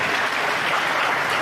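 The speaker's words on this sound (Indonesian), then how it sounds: "Oh, tepuk tangan." An audience at a talk applauds: a short, even wash of clapping, steady and moderately loud throughout.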